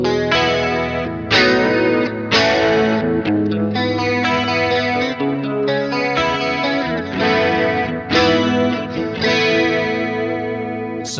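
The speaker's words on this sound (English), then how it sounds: "I have the MXR carbon copy delay and also Electro Harmonix Holy Grail reverb pedal. I can turn both on at the same time and get an even wetter kind of sound." Clean electric guitar through an MXR Carbon Copy delay and an Electro-Harmonix Holy Grail reverb pedal together, playing wet, arpeggiated chords that ring and repeat in echoing trails, loud and continuous with no voice.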